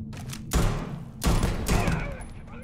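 Video-game gunfire in Starfield comes as loud bursts of rapid shots with heavy low thumps, three clustered volleys over a couple of seconds with a constant background rumble.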